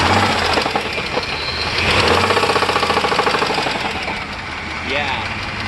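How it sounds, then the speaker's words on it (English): LS V8 engine in a Chevy Blazer revving with a rhythmic knocking from one cylinder bank, loud and close, rising then settling, with people talking nearby. "Rev it up a little."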